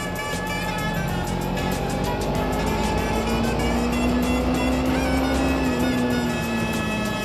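A 2017 Suzuki GSX250R motorcycle riding a tight, winding mountain road, its engine note droning steadily and rising slowly in pitch, with heavy wind noise throughout.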